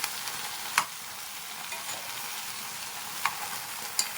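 Salted eggplant and peanut chutney ingredients are stirred together by hand, making soft, quiet mixing sounds with a few sharp clicks of utensil against the bowl and no speech.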